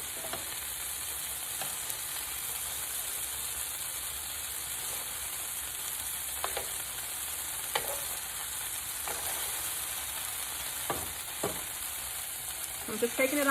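Fish for tacos frying in a pan, a steady bright sizzle throughout with occasional crackles and pops, growing busier near the end, no speech.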